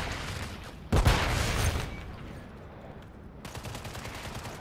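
Gunfire in the video game Call of Duty: Modern Warfare 3, a loud burst of rapid shots that fades into a steady rattle of weapon fire continuing in the background without talk.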